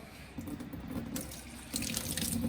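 Water runs steadily from a tap into a sink to fill a sample for a total dissolved solids check on a reverse osmosis water system, a continuous close splashing flow that swells louder near the end.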